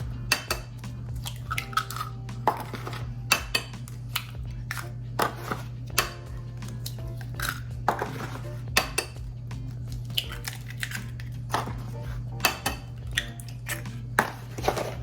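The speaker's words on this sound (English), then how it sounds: "crack all of our eggs in here." Eggs cracked one after another into a bowl give sharp taps and clicks against the rim over a steady kitchen hum.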